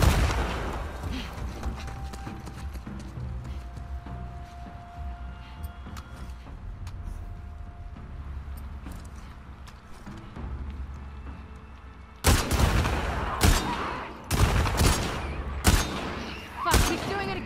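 Enemy gunfire in The Last of Us Part II at a marina, a series of loud, sharp shots cracking near the end after a stretch of quieter rumbling game ambience, with a player talking during it.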